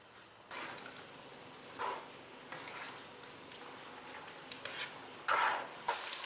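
Marinated pork frying in oil over high heat, a faint, soft sizzle with intermittent stirring scrapes and a few louder utensil bumps against the pan, heard up close without voices.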